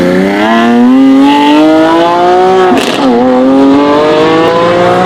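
A twin-turbo Ferrari F12 exhaust revs loudly and steadily at night, its pitch climbing, with a brief crackle midway before the engine settles into a high, continuous roar.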